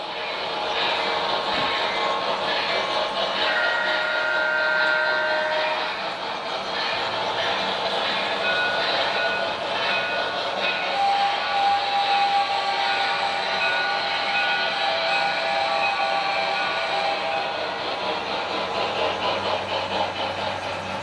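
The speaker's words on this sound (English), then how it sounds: "As our featured train is going through our Summit, it's making a meet with an Amtrak passenger train." An HO scale model freight train rolls steadily across a club layout with a summit and passing siding, a continuous close rumble and rattle with faint squeals, lasting throughout without voices.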